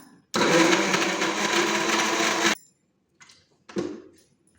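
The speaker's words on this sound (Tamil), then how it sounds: "இப்போ வந்து இது மிக்சியில் வந்து நீட் நல்லா ஃபைன் பேஸ்ட்டாக வந்து அரைச்சிக்கலாம்" Electric mixer grinder blending tamarind and spices into a fine fish-curry paste, a loud steady whirring roar for about two seconds that cuts off abruptly, followed by a couple of brief faint clunks.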